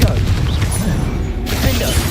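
Confringo fire spell blast from Hogwarts Legacy, a loud, dense mechanical crackle and booming burst sustained for about two seconds, with a brief shift in texture midway.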